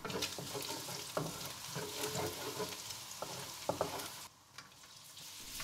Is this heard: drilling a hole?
no